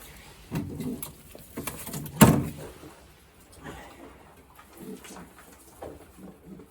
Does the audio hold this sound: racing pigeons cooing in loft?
yes